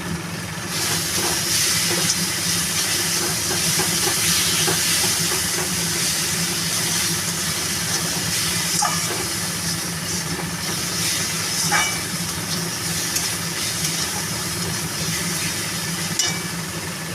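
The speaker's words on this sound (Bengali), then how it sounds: "মশলা কষুক" Spice masala frying steadily in a pan for a fish curry, a continuous broadband hiss and sizzle with faint clinks, close and even throughout with no talk.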